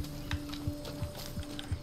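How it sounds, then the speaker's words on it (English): Horse hooves clip-clop in the video game Far Cry 6, a steady rhythm of about six soft thuds at a walking pace, moderately near over a low ambient game hum. "Is that a horse?"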